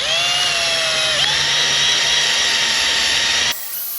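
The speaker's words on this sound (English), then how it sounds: "we've got our drill on speed 1" A drill on speed 1 spinning an eraser wheel whines steadily at high speed, with a brief dip in pitch partway through, then cuts off near the end.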